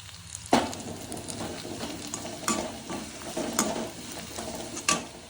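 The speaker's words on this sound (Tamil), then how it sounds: "அடுப்பை சிம்மில் வச்சு நல்லா வதக்கிக்கலாம் வெங்காயம் பாதி வெந்துருச்சு இந்த ஸ்டேஜில் நம்ம பொறிச்சு வச்ச கருவாடை உள்ளே போட்டுக்கலாம்" Sliced onions and fried dried seela fish being stirred and sautéed in a pan over low heat, a steady soft sizzle broken by sharp clinks and scrapes of a spoon at irregular moments.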